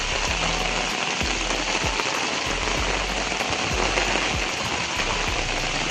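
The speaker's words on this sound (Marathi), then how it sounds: "एवढा काल रात्रीपासून पाऊस पडतो हे बघा" A downpour in a Konkan village rains onto surfaces and waterlogged fields nearby, a loud unbroken hiss with scattered heavy drops striking close by.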